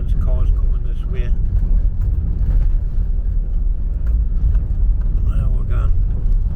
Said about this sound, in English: Hence cars coming this way.